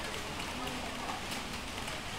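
Rain falls steadily as a dense, even hiss of drops on a surface, continuous and fairly close through the whole moment, with someone talking faintly beneath it.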